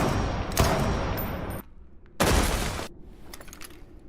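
Gunfire in a dramatic confrontation: two loud, sharp blasts of shots, each with a ringing tail, separated by a brief gap, with a few fainter crackles afterward.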